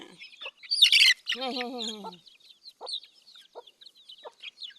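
Backyard chickens cluck and call close by in short bursts, one loud rising squawk followed by a string of quick clucks, then scattered softer chirps and clucks trailing off.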